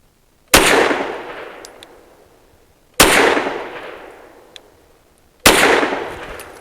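A Fusion Firearms XF Pro pistol fires specialty ammunition: three loud, sharp shots spaced evenly about two and a half seconds apart, each followed by a long echoing decay.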